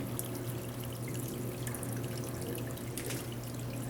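Water from a reservoir trickles steadily out of PVC spouts into garden beds at an urban homestead, making a continuous splashing, dribbling wash with a low steady hum underneath, close and even in level.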